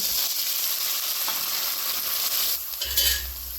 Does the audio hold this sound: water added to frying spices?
yes